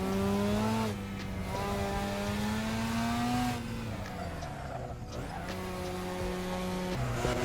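A Mazda RX-7 driven hard on a mountain road, its engine loud and close as it revs through rising and falling pitch with brief shifts, steady and continuous with no talking.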